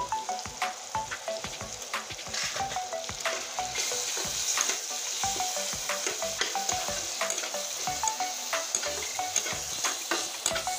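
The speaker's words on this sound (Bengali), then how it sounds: "এবার সুন্দর করে আরো মশলাটা কষিয়ে নেব" Ground masala with turmeric and chilli powder sizzling and frying in a pan for an egg dish, with a steady run of stirring scrapes over the constant hiss, close and fairly loud, no talk.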